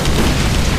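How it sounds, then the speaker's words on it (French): A grenade blast in the Borderlands video game, a loud, dense booming rumble that fills the whole short moment without a break. "Lancez vos grenades!"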